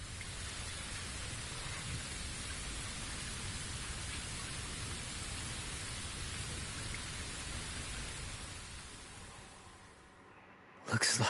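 Steady broadband rain ambience from the video game Bleach Rebirth of Souls, a continuous hiss that holds for about ten seconds before fading away near the end, followed by a brief louder burst.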